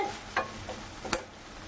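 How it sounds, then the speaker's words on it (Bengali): Jackfruit seeds frying in a pan with oil and being stirred, a quiet low sizzle broken by a few soft scraping stirs, close and without talk. "কাঁঠাল বীজগুলোকেও ভালো করে ভেজে নেব।"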